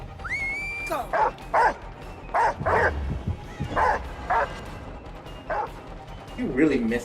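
A dog in the horror video game Dead by Daylight barks in a string of sharp, evenly spaced yips and woofs, loud and close, with a brief whimper-like tone at the start.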